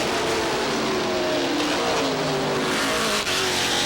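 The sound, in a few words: NASCAR modified race cars on final lap, Star Speedway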